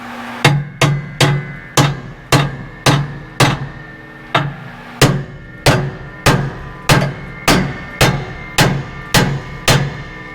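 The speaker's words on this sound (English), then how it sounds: "let's pop that with a hammer" Loud, sharp hammer blows ring out on metal of a 1972 GMC 3500 wrecker truck at a steady pace, about a dozen and a half strikes with ringing decay between them.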